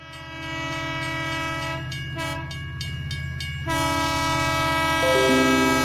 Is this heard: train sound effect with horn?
yes